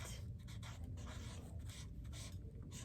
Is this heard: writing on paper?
yes